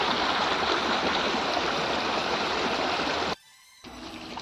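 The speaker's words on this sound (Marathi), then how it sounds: "असं पाणी वाहते" Water from a roadside stream polluted with hotel waste flows steadily with a continuous rushing wash, cutting out briefly near the end before resuming more quietly.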